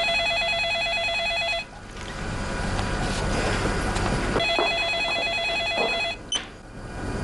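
A telephone rings in repeated trilling bursts, two clear rings separated by a stretch of dull rumbling background noise, fairly close and loud with no talking.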